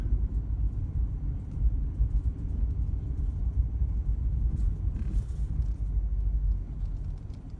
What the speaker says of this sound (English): Cobbled streets. Oh god, that's a bone shaker.